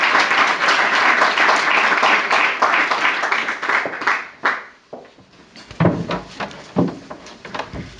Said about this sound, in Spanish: me gustaría que dé un caluroso aplauso de bienvenida a Loreto